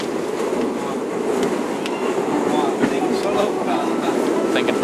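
Steady rumble and clatter inside a crowded, hot, moving train carriage, with a dense background murmur and occasional clicks and knocks throughout.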